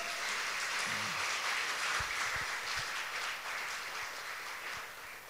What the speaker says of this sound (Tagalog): yung malakas na palakpak para sa ating buhay na Diyos